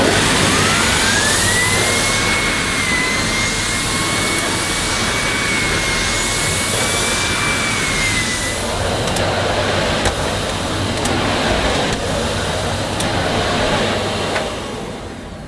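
A Beko Airgate Pets bagless vacuum cleaner with a turbo brush runs on short pile carpet, producing a loud, steady motor whine and airflow rush whose pitch rises and holds before settling lower for the rest.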